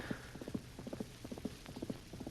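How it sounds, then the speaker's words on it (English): Horses' hooves clip-clop in a steady, repeated rhythm as men ride past, moderately close and clear, with no talk over them. "it looks like men riding the horses"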